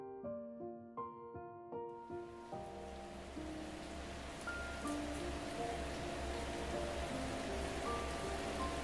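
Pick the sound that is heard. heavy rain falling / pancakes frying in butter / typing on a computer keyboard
heavy rain falling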